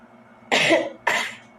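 Two sharp coughs from a person with the flu, close and loud, the second following about half a second after the first, over quiet room background.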